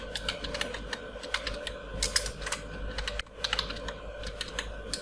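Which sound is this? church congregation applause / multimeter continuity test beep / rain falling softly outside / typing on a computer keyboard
typing on a computer keyboard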